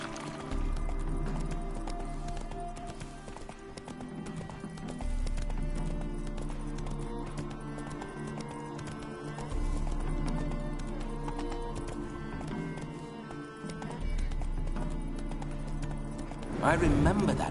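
Horse hooves clop at a steady, regular rhythm in a PS4 video game, moderately loud under continuous in-game character dialogue, with a louder burst near the end.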